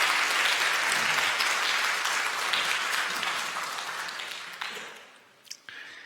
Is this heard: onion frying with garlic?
no